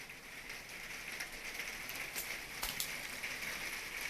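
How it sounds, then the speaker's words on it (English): Steady rain patters on a conservatory roof, a continuous dense hiss of drops with occasional louder taps, fairly faint and heard alone indoors. "Sorry if you can hear rain, I hope that's not too distracting."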